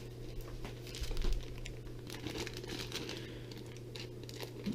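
A subscription box of FPV drone gear is crinkled and torn open. The rustling and ripping run steadily up close over a low electrical hum, with no talk.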